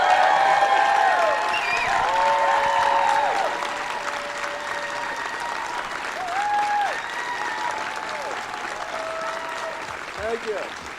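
A live audience at the Calgary Expo 2014 bursts into sustained applause and whistling cheers for Paul Reiser's entrance, loud at first and then settling into a steady, slightly quieter ovation.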